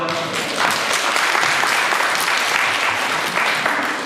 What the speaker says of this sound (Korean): 이런 박수 소리